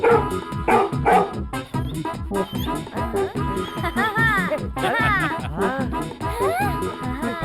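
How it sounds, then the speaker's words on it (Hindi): A fluffy cartoon dog in an animated Hindi comedy barks repeatedly in quick, loud yaps and whimpers, mixed with excited voices and background music. "अरे ये कुत्ता"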